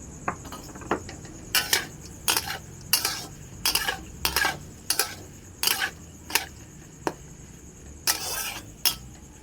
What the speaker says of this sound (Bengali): সব সব সবজিগুলো আমি লাল লাল করে ভেজে নেব।